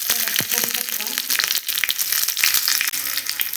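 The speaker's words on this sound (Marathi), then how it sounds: "तर हा जो तडका आहे तो आपण या कोशिंबिरीवरती टाकूया" Hot oil tempered with mustard seeds, cumin and broken byadgi chilli pieces is poured over a cucumber salad, crackling and sizzling loudly in close, sharp popping bursts that continue steadily throughout.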